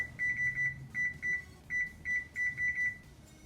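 An oven control panel beeps as it is set to preheat to 425 degrees, a run of about a dozen short, bright electronic beeps in quick irregular pairs and singles, close and clear over a faint room hum.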